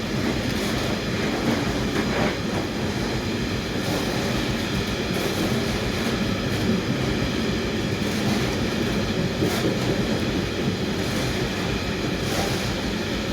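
A freight train hauled by a Class 66 locomotive, 66577, rumbles past steadily and loudly in Scotland, wheels clattering over the rails in a continuous roar with occasional sharper clicks.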